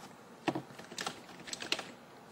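Keys clack on a computer keyboard as a file name is typed, a short burst of close, crisp keystrokes in uneven clusters.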